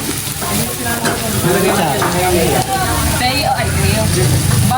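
Samgyeopsal pork belly sizzling on a tabletop grill at a restaurant dinner, a loud continuous close crackle and hiss with people talking over it throughout.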